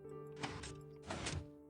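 Two short mechanical thunks from a piston extending in the Minecraft modpack Agrarian Skies 2, spaced about half a second apart, with steady background hum under them and no talk.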